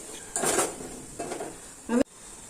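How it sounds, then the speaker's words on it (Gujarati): Spices being stirred into hot oil in a pot for a Kathiyavadi fenugreek-seed curry, heard as a few short scraping clatters of a spoon against metal, with a sharper knock near the end and no talking. "હવે બધાય મસાલાને આપણે એકદમ તેલમાં ફેરવી લેવાના છે"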